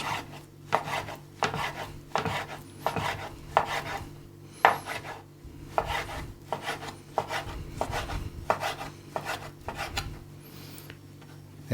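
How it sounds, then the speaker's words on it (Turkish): A knife chops lamb tail fat into strips on a cutting board for mini tacos, with a steady run of crisp, close strokes against the board and no talking. "Ve burada şöyle şeritler halinde tekrardan doğramaya devam ediyoruz"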